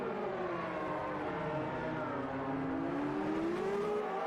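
Formula 1 race cars from the 1991 season in the Automobilista 2 racing game, several engines droning together at a steady loud pitch that slowly rises as they accelerate, with no voices.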